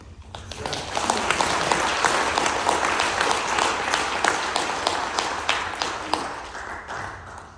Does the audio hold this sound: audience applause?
yes